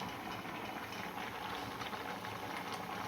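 A pot of field beans in water boils on a stove, giving a faint, steady bubbling hiss with a soft low rumble, continuous and with no voices.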